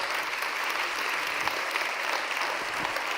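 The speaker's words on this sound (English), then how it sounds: "Please give them an applause." An audience at a leadership forum applauds a panel, a full and even wash of clapping from many hands, continuous and fairly loud with no voices over it.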